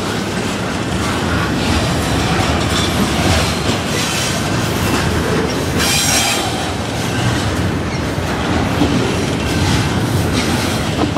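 A CN freight train backs into a rail yard on the Halton Subdivision, its cars rolling with steady clickety-clack and occasional wheel squeal, loud and continuous throughout with no talking.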